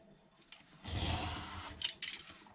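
A knife makes steady, even cuts through leather for a wet-formed sheath, giving a dry rasping drag that swells for about a second, followed by a few shorter scraping strokes close by.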